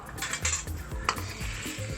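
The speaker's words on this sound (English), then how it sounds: "The sauce is boiling nicely, time to thicken it, and here is the cornstarch. Give it a stir." Sweet and sour sauce thickened with cornstarch being stirred in a pan, with scraping utensil strokes and light clinks against the metal, a faint sizzle beneath.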